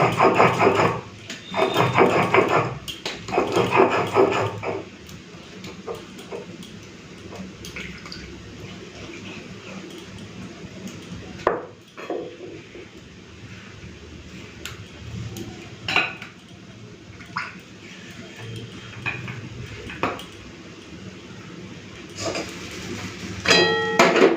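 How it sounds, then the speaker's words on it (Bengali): Black mustard, poppy seeds and green chillies are ground into paste, heard as irregular scraping and grinding with clattering knocks against the vessel, louder in bursts at the start and end and quieter between. "দুটো কাঁচা লঙ্কা দিয়ে কালো সর্ষে আর পোস্তটা বেটে নিচ্ছি"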